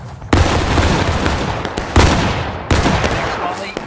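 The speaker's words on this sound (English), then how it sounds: "Those guys are shooting with the rifles." A rifle volley fires in a video game battle, with three sharp, loud blasts, each trailing off into a long rumbling echo.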